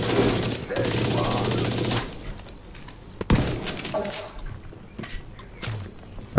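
Gunfire from The Division 2 fills the opening two seconds with loud, dense automatic bursts, then thins into scattered shots, impacts and clatter that trail off toward the end.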